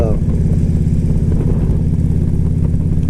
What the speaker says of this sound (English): By the way, I have a 2013 Harley Road King.